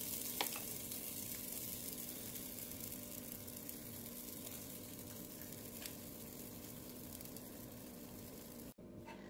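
Oat pancake batter fries in a pan, producing a continuous even sizzle up close, with a faint tap or two of the utensil and a brief cut near the end.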